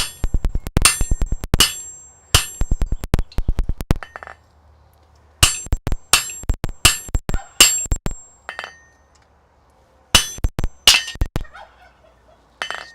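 Hammer blows ringing on metal at an anvil in a blacksmith's smithy, fast bursts of sharp clanging strikes with short pauses between groups, loud and close.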